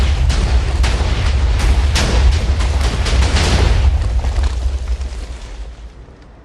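A continuous barrage of overlapping Minecraft explosions rumbles and crackles loudly, with rapid bursts that gradually fade out toward the end.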